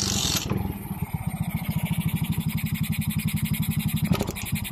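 A Suzuki Raider J 115 Fi motorcycle with a stalling, hard-starting fault idles up close, its single-cylinder engine thumping in a fast, even loud pulse with a brief rev near the end.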